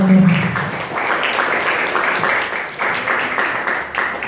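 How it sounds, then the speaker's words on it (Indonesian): Listeners at a university anniversary program applaud their speaker, a dense, even patter of many hands that holds steady throughout, fairly loud and close. "Sekali lagi kasih tepuk tangan yang meriah untuk pembicara kita"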